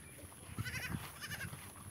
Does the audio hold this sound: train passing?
no